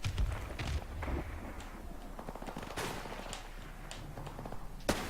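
Game gunfire in Modern Warfare Remastered rattles in quick bursts of shots and automatic fire, with occasional footsteps, fairly close and sharp, plus a louder crack near the end.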